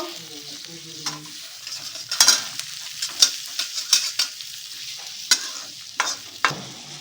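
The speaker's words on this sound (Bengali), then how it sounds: "সবজিগুলো ভাজা হয়ে গেছে।" Chopped onion and capsicum stir-fry in a hot pan for homemade noodles: a soft steady sizzle punctuated by repeated sharp scrapes and clacks of a spatula against the pan, close and uneven in rhythm.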